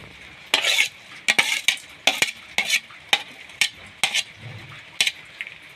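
Lentil fritter batter with salt, sugar and chilli being mixed by hand or spoon in a bowl, giving a steady series of wet slapping, squelching strokes about twice a second, close and moderately loud.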